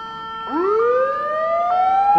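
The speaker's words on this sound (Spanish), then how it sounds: "se oyen ya sirenas." Emergency sirens sound in a street in Spain, a loud wail sweeping upward and holding high, with a second siren tone overlapping near the end.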